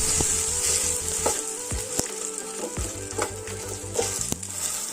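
Egg and beaten rice (chiura) omelette frying in a pan, a steady loud sizzle with repeated sharp scraping and stirring clinks from a utensil throughout.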